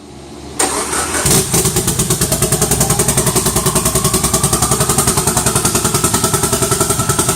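A Mitsubishi Evo fitted with a big turbo cranks and fires, then settles into a loud, steady idle with a rapid, even pulsing beat that runs on alone without talk.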